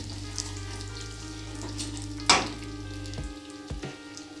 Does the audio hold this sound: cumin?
yes